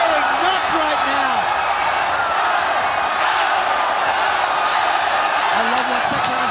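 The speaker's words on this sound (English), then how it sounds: "Oh, this crowd is going nuts right now." A packed arena crowd roars continuously at a ONE Championship fight between Seksan and Tyson Harrison, a dense, steady wall of cheering and whooping with an excited commentator talking over it throughout.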